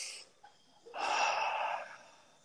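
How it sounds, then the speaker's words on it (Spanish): Deep breathing exercise: one short sharp intake, then a long, loud, airy breath lasting close to a second before fading, heard alone and close. "sigue respirando para que la gente siga con tu sonido de tu respiración"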